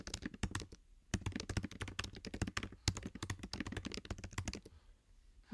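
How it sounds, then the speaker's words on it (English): Rapid, uneven clicks of fingers typing on a computer keyboard, close and crisp, with short pauses between bursts and no voices. "So you can just type away."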